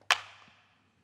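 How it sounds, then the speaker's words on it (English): A single dry drum-machine clap sample from an organic house beat, one sharp crack that trails into a short fading tail, played alone over a faint low hum. "Then a wee clap."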